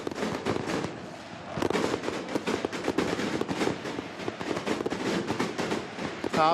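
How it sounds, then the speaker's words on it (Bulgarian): Fireworks crackle and burst continuously at a football title celebration for Levski in Bulgaria, a dense, loud barrage of pops and bangs with crowd noise. "Празненствата, зарята тепърва започва в синия лагер."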